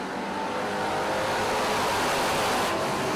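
Race cars at Fulton speedway roar back up to speed on a green-flag restart, a dense, loud, continuous engine wash swelling slightly as the field accelerates.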